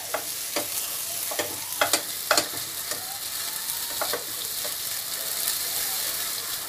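Masala for palak paneer frying in a pan while being stirred: a steady broadband sizzle with repeated scraping clicks of a spoon against the pan, a few sharper knocks in the middle, close and with no speech.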